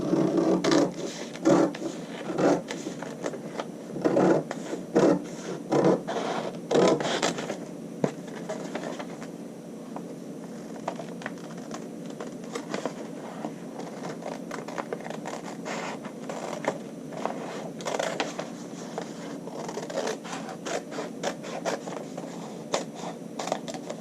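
Scissors cut a paper pattern draft for a real fly front in steady, close snipping and rustling strokes, with dense bursts early on giving way to quieter, sparser crunching of the paper sheet.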